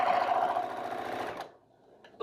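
A sewing machine runs steadily at speed, stitching two halves of a quilt section together, a loud continuous mechanical whir that stops abruptly, followed by a short quiet tail with a faint click.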